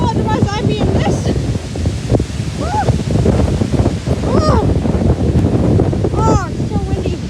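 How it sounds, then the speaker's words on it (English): Strong wind gusts roar outdoors by the water near a dock, buffeting the microphone with heavy rumbling noise throughout, while a person talks and exclaims over it. "It's so windy."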